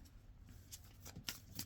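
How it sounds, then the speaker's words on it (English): Angels and ancestors oracle cards shuffled by hand in a quiet room, giving soft riffling and papery slaps with a couple of sharper snaps near the end. "I think I'll just bring in these angels and ancestors cards for a final message."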